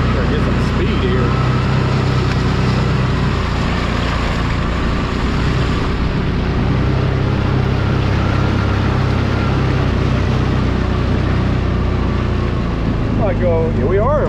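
A vehicle in four-wheel drive pushing through a field on a lot being cleared of trees, its engine droning loud and steady throughout with rough rumbling underneath.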